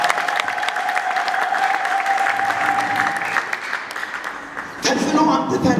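A church congregation applauds at a healing and prophecy service, a sustained, fairly loud round of clapping with a held musical tone underneath and a shift in the background sound near the end.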